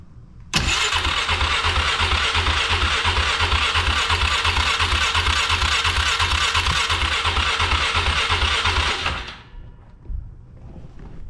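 A Polaris Sportsman 500 H.O. ATV, run from a jump pack because its battery is weak and with the choke on, cranks loudly and steadily for about nine seconds without firing, then stops.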